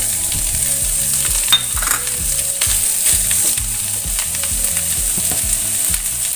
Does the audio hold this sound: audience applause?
no